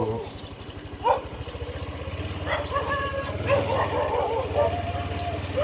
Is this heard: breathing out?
no